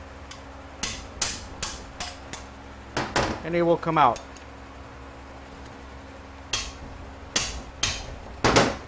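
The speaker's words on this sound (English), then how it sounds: "you use your hammer and hit it" A hammer repeatedly strikes a wrench to break loose a stubborn bolt during a teardown of a Ford F-550's 4R100 transmission, giving sharp, close metallic clanks in irregular bursts, with someone talking briefly between blows.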